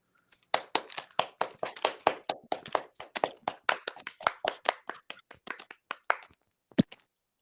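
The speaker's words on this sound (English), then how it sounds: "Can we have a round of applause?" Hand claps from a small group in a theater, a brisk run of sharp, distinct claps lasting about six seconds, close and fairly loud, then trailing off to a last stray clap.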